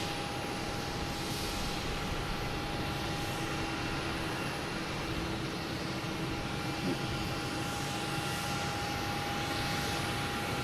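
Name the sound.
airplane landing at Boston Logan Airport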